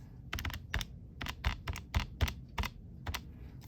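Fingers typing on a computer keyboard while entering statistics values, a close run of sharp clicky keystrokes in an uneven rhythm, some in quick pairs, with no talk.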